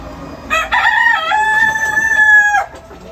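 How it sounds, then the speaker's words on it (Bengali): A rooster among about 150 laying hens in a small home poultry setup gives a single loud, close crow lasting about two seconds, with faint clucking and barn noise around it. "কি রে মুরগি এত চিল্লাই কেটে, সমস্যা কি?"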